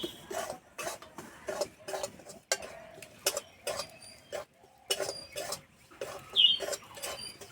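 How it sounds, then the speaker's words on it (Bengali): A spoon stirs a mixture in a kadai while chomchom sweets are being made. Repeated close metallic clinks and scrapes come in an uneven rhythm over a quiet kitchen, with no talking. "নেড়ে নেওয়া হয়ে গেছে, খুব সুন্দর একটা গন্ধ বেরিয়েছে।"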